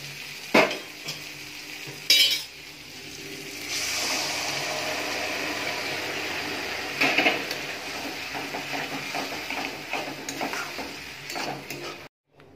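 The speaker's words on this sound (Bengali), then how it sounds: "মশলাটা ভালো করে কষানো হয়ে গেছে। এবার আমি ডালটা দিয়ে দেবো।" Dal lentils going into a pan of cooked spice masala, with a few sharp utensil knocks against the pan, then a sustained sizzle and stirring, ending with another scrape.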